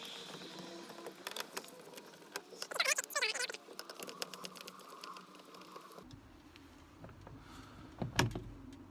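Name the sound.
removing Torx T20 screws from VW T5 window winder mechanism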